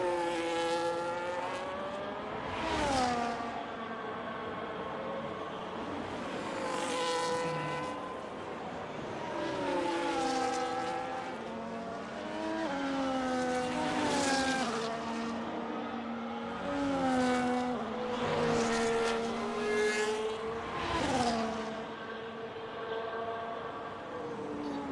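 Race car engine on a hot lap in an online sim racing round at Canada, repeated rising and falling high-pitched revs as the car works through gears and corners, steady and fairly close with no talk.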